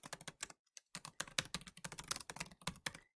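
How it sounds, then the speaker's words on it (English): Rapid keystrokes on a computer keyboard while entering a spreadsheet heading in Excel, a close, crisp run of clicks with one short pause, no talking. "So in A1, I'm going to type best-selling books."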